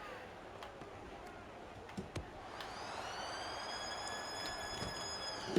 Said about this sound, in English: Siren goes